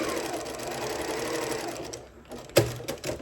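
A sewing machine runs a very short stitch along the folded side of a Christmas tree gift bag, a steady fast whirring hum that slows and stops near the end, with a small clack.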